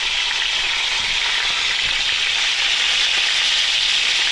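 Razor clams fry in very hot oil, giving a loud, steady close-up sizzle with a dense crackling hiss that runs unbroken and without pause from start to finish, with no voices.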